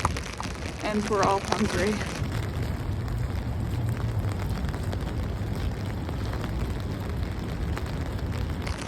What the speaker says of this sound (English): Oh, update, it's still raining.